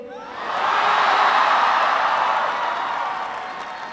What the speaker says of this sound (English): It's always good to start with an easy applause line.